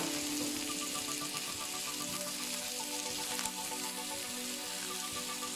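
Eggs fry in a pan with chopped tomato added, a steady close sizzle and crackle holding at an even level throughout, with no voice.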